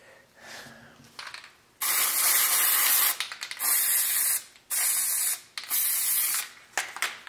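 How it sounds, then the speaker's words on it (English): Several loud hissing bursts of spray glue from an aerosol can onto wood, each lasting about a second, separated by short pauses with faint handling noises. "I am actually gonna spray the wood with spray glue"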